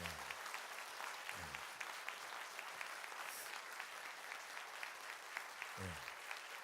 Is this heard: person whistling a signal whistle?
no